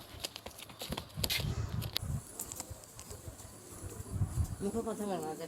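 Pigeons at a farm, including Lahore breeds, give low soft cooing that rises and falls in a few bursts, mixed with scattered pattering and rustling, with a brief wavering call near the end.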